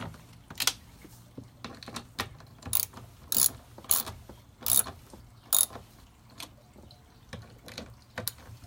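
A torque wrench ratchet clicks in a series of sharp, close bursts, tightening the nuts on a car's passenger side mirror. The clicks come in irregular groups with short pauses between them, and no one speaks.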